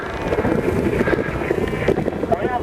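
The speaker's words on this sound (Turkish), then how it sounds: "rüzgar burundan esiyor" Wind buffets the microphone in a steady, rough low rumble, gusting unevenly throughout, with faint voices underneath, at a paragliding launch site.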